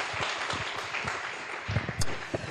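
A church congregation applauding at a sermon, a dense wash of clapping over a couple of seconds, fairly faint and steady.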